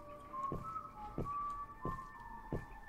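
A melodic whistled show tune in a video game plays over a low background, punctuated by four evenly spaced soft thuds like footsteps.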